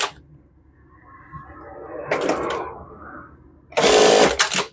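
A sewing machine stitches along the edge of a trouser pocket in two short, close bursts, the second louder, separated by a quiet pause.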